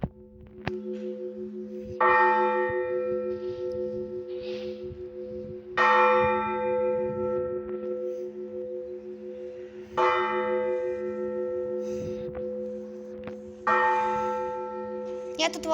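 Church bells ring from the belfry of the Church of St Nicholas the Wonderworker. A loud, close peal rings out about every four seconds over a continuous humming bell drone.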